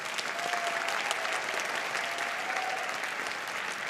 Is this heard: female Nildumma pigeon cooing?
no